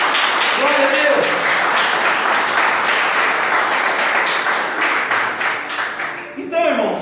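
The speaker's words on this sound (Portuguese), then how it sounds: "Você pode aplaudir o nome do Senhor Jesus por isso?" A church congregation at a family worship service claps together, a dense, loud burst of applause that holds steady and then thins out toward the end as a voice rises over it.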